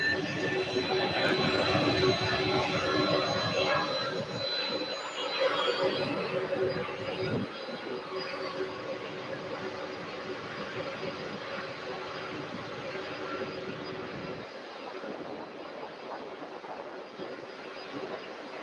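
A Delta Connection airplane arriving from Boston at Louisville's SDF airport makes a broad, roaring jet rumble that is loudest at the start and then fades gradually into the distance.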